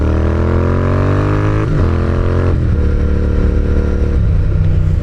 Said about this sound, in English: this bike is a Royal Enfield GT650S